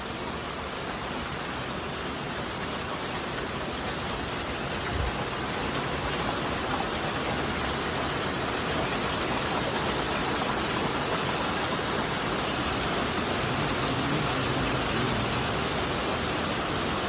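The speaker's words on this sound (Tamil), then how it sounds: "நல்ல மழை, பிரமாதம்." Heavy rain in Tamil Nadu falls as a dense, steady hiss of water on surfaces, continuous and even from start to finish with no voices.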